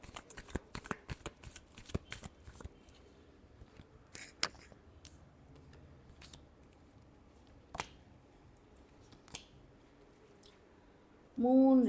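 Tarot cards shuffled by hand in a rapid burst of crisp riffling flicks, followed by a few isolated taps and slaps of cards, close and quiet, ending in a brief louder sound.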